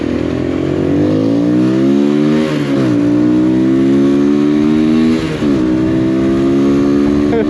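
An MGB ATX 125 adventure motorcycle accelerates hard on an open road, its single engine rising through the gears with brief dips at each shift, loud and close with wind rush.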